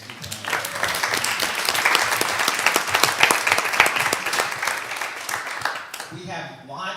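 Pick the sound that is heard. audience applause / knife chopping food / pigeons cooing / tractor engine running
audience applause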